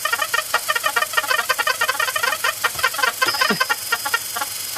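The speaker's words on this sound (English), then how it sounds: "the first one was the Rhythmicon, which was Leon Theremin's thing" Leon Theremin's Rhythmicon from the 1930s plays loud, rapid interlocking electronic pulses in layered repeating rhythms, chirping and clucking almost like a flock of small birds.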